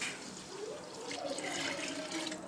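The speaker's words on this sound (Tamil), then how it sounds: "இப்போ பிரியாணிக்கு வேணுங்கிற அளவு தண்ணி ஊற்ற போகிறோம்" Water poured into a pot of mushroom biryani, a quiet steady splashing pour lasting a couple of seconds, close by.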